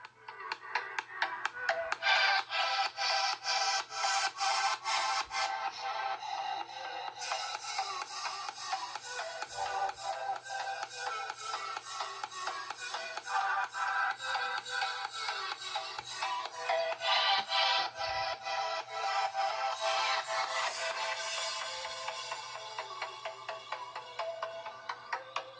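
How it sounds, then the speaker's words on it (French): Music plays continuously at full volume through the internal loudspeaker of a Cubot X16s smartphone, sounding bright and thin, steady and near, with no talking. "D'abord avec des tests de haut-parleurs internes."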